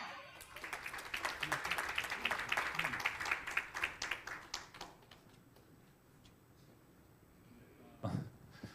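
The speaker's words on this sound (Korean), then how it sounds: "방금 그 박수는 이제 저한테 쳐주신 박수가 아니죠." Audience at a university history department 70th anniversary talk concert claps, a dense burst of applause that thins into scattered claps and fades to quiet, followed by a short thump near the end.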